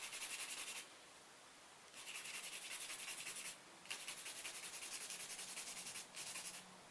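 An electric nail drill grinds away a nail enhancement on a silicone practice hand, giving a steady high whirring and sanding hiss that stops briefly twice before resuming, close and fairly quiet.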